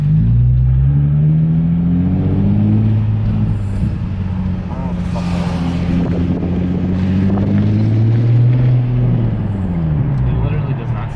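A Nissan 350Z fitted with a test pipe exhaust revs hard and pulls away up close, its loud raspy engine note climbing and falling through several throttle swells over roughly eleven seconds, with wind buffeting the microphone.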